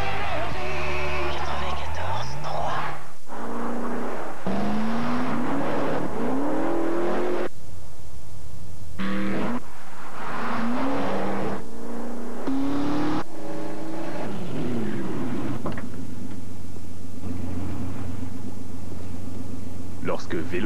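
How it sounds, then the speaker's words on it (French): A Dodge Magnum with a Hemi engine in a TV commercial, its engine revving and accelerating in loud bursts with rising pitch, cut between quieter moments, with a narrator's voice and music mixed in. "La toute nouvelle Dodge Magnum, propulsée par son moteur Hemi."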